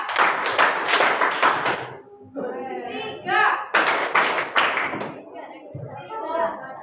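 A classroom of students clapping hands together in a counting game, sharp bursts of group claps in rhythmic clusters, alternating with a teacher's voice and children chanting.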